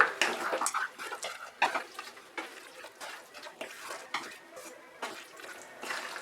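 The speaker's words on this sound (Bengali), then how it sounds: "মশলার সঙ্গে ভালো করে মিশিয়ে নেব" Small mutton pieces being stirred with spices in a pot for a Bengali curry, a series of quiet, wet scraping and clinking strokes repeating at an uneven pace, close and faint, with no one speaking.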